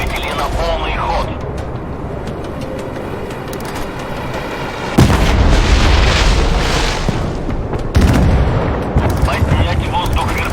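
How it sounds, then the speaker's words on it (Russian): Naval gunfire from warship cannons in the game Force of Warships: heavy booming salvos, two sharp loud blasts standing out over a constant rumble of combat. "Готов открыть огонь по противнику. Приготовиться к ведению огня."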